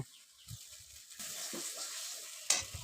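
Masala for a rui fish curry cooking in a pan after water is added, with a faint bubbling sizzle, a few low stirring knocks and a brief splash near the end.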